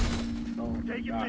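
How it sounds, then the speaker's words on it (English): Sentry turret firing at an enemy player in Call of Duty: Black Ops 6 Domination, a short burst of gunfire over a steady game hum, with a voice talking through it. "Had that sentry turret shooting that player"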